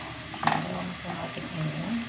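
Browned onion frying in a pan for meatless spaghetti, with a soft steady sizzle and a sharp scrape of a utensil against the pan, close by, and a faint voice murmuring underneath.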